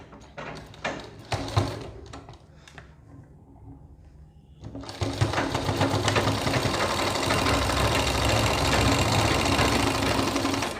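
A sewing machine stitches along the neckline of a suit. A few short, irregular mechanical clatters and a pause lead into a loud, continuous rapid rattle of stitching.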